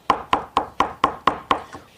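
Garlic cloves minced with a knife on a cutting board, seven or eight sharp, evenly spaced chops in quick rhythm, close and distinct, with the final stroke softer.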